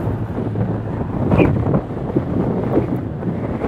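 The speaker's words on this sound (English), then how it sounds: "Oh, it's so windy, and there's a lot of sand in this area here." Strong wind buffets the microphone in a sandy area with a loud, constant rumbling roar that swells and gusts throughout.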